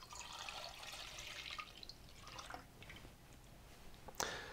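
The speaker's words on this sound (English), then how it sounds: "let's get the milk into our saucepan here." Milk pours into a saucepan with a faint, soft liquid splash that fades gradually over a few seconds, ending in a light clink.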